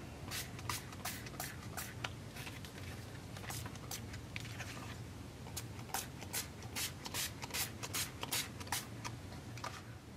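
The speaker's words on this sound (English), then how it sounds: "Let's spritz this one here that has some stamping on it and see how the coffee and the water affect things." A spray bottle spritzes a mix of coffee and water onto stamped paper, giving many quick, close, bright hissing bursts in an irregular rhythm over a rustling background.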